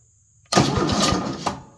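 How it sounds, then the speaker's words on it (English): The starter on a Cub Cadet LTX 1050 riding mower cranks after a short silence, giving a loud, close, chugging churn with a few rhythmic pulses for about a second. The engine does not catch. "And if it cranks my starter, it means that this solenoid is good."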